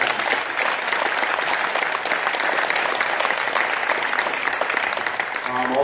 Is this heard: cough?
no